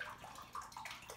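Cold gin poured into a chilled martini glass, a faint, brief liquid trickle with soft gurgling pulses, heard alone at close range.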